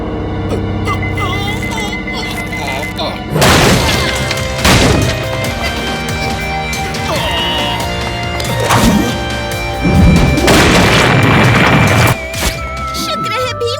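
A cartoon sticky bomb goes off amid splintering wood and crashing debris, several loud bursts and smashes spread over the scene with cartoon voices and music around them.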